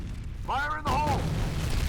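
A grenade goes off in F.E.A.R. multiplayer on the Refinery map: a brief shouted voice, then a sudden loud boom that rolls into a sustained rumbling roar.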